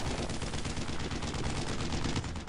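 Heavy gunfire in the World War II shooter Brothers in Arms: Earned in Blood comes as dense, continuous rapid shots in a sustained barrage aimed at a Sherman tank, loud and unbroken throughout.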